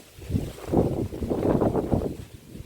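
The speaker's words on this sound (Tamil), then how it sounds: "காற்று செம்ம காற்றுங்க" Strong wind gusts outdoors in a garden after rain, buffeting the microphone in low, rumbling surges that rise and fall over a few seconds, with no talking.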